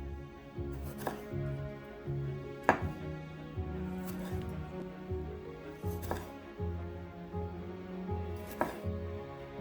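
Cherry tomatoes being chopped on a cutting board, a steady series of knife strikes with a few sharper thuds, close and clear with no voices.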